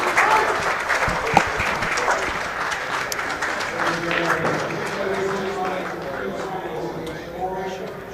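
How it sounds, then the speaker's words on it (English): Applause breaks out from the audience at a pool match, a dense spread of clapping that starts loud and slowly tapers off, with a commentator talking over it. "People are clapping"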